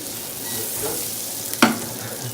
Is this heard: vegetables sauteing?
yes